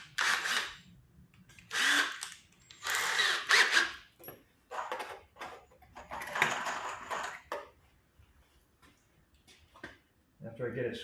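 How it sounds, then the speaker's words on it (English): Power drill bores holes through clamped boards in several separate whirring bursts of a second or two each, close and loud, with someone talking quietly between bursts. "I got a clamp so I can drill all the holes at once, probably."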